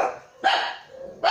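Two bursts of dog barking sound a short way off, one near the start and another near the end, each a loud rough bark with quieter lingering sound between them and no talking.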